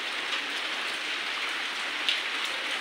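Heavy rain pours steadily on a rural homestead in Assam, a dense, even hiss of drops on surfaces that continues without pause at a constant, fairly loud level, with a few slightly sharper splashes near the end.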